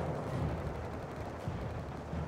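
Gunfire and artillery in the World War II strategy game Company of Heroes 3, set in a North Africa campaign battle: a few muffled, fairly quiet shots and thumps over a dense battle din, with no clear talk.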